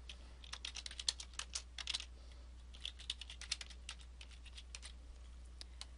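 Computer keyboard keys tapped in quick irregular bursts while a file name is typed, crisp clicks close to the mic over a steady low electrical hum, with no voices.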